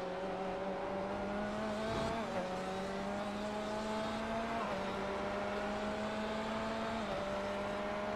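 Two Porsche race cars battling on track, heard as a continuous loud engine drone with steady pitch and brief dips at gear changes, captured from an onboard camera with no talking.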